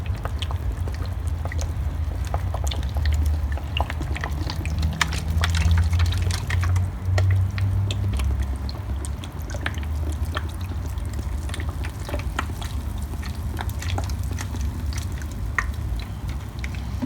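Water trickles and soaks into clay pots of Lophophora williamsii cactus seedlings, a close, continuous pouring and dripping with faint wet squishes that lasts throughout.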